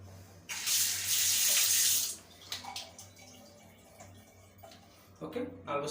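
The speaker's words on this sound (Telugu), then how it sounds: "ఓకే, 40 స్పూన్ వాటర్ తీసుకున్నాను." Water runs from a tap into a measuring mug for a homemade shampoo mix: a loud, steady splashing stream for about two seconds, then quieter handling clinks and drips.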